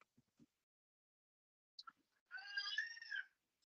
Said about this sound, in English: a cat crying in the background.